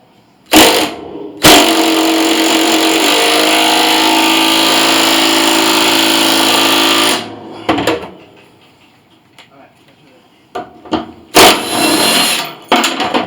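An impact drill with a 1/2 socket drives a bolt while a 9/16 crescent wrench holds the nut, installing a Blue Baron truck mount: one sustained loud whirring, hammering burst, then short close blips of the tool with clanks.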